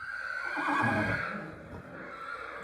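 A horse whinnies loudly and shakily, the neigh swelling then trailing off over a couple of seconds, with a faint background rumble.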